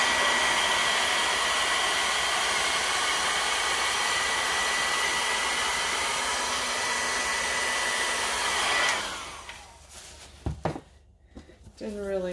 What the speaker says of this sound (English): I'm going to use my big hair blower to get that center push.